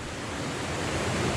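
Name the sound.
rushing river water at the Strid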